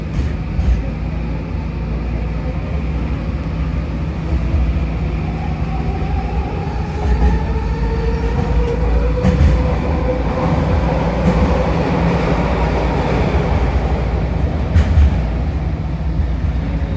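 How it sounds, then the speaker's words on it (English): A Vancouver SkyTrain in Metro Vancouver rolls past with a loud, steady rail rumble and a rising and falling whine, close by and continuous, with no voices. "The SkyTrain that I just got"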